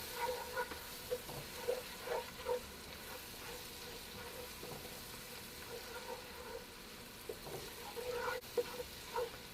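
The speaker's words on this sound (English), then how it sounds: "Remember me say you have to burn the curry in the oil." Curry powder sizzling and frying in hot oil for Jamaican curry oxtail, a faint continuous crackle with soft stirring scrapes and bubbling pops, close and quiet.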